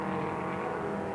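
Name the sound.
Ford Escort race car in 1971 race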